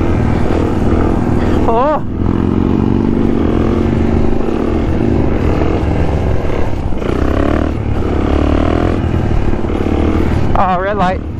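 Harley-Davidson motorcycle engine rumbling steadily and loudly up close, a deep continuous throb with a revving swell, while voices talk briefly near the start and end.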